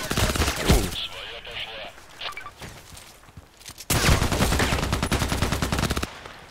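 RPKT tactical machine gun in the Contract Wars shooter: a short burst opens, then after a quieter stretch a long sustained rattle of rapid automatic fire runs for about two seconds before cutting off.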